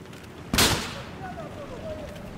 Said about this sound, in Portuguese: Os caras estão atirando em mim